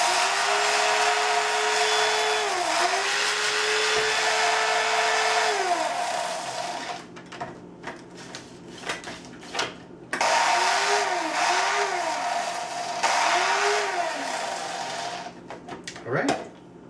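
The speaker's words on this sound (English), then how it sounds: "always make sure to get these on a nice fine grind and grind away." A food processor grinds peas and edamame to a fine texture in loud whirring bursts, stopping and restarting several times, with a person talking during the pauses.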